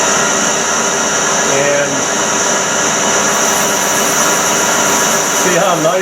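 A machine bores a metal carburetor, cutting with a steady, loud whine and hum and a faint squeal that shifts slightly in pitch, while someone talks over it.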